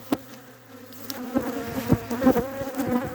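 Honeybees buzz around an open hive during springtime colony care, their drone rising and falling in close, uneven swells alongside scattered knocks and handling sounds.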